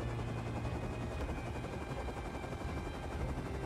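Helicopter in the Rust video game flying steadily, a continuous dense rotor and engine drone that stays loud and even throughout, with no talking.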